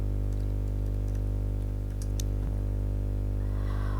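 Typing on a computer keyboard to enter a search term, a short burst of light key taps over a steady electrical hum, close and fairly quiet.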